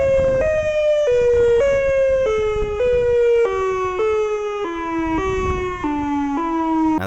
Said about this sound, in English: siren you're hearing here in this Siren Head sound effect